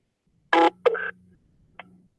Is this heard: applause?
no